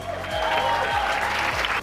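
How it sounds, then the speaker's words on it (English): A crowd at the Nedbank City Dash 2019 road race in Windhoek applauds the race winners, steady dense clapping sustained throughout. "Let's give it a nice big round of applause, guys"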